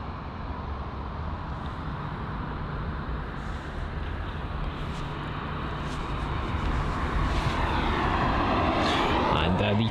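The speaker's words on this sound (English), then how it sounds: "There it is, the Boeing 777." Boeing 777 on final approach at London Heathrow, a continuous loud jet engine roar that builds steadily as the aircraft draws closer, with a voice talking over it.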